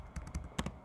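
Typing on a computer keyboard: a brief burst of five or six quick, light key clicks, close and fairly faint, with no voices.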